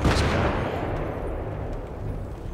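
An RPG explosion in the video game Battlefield 3: a loud, close broadband blast that fades into a long rumbling tail, with no voices.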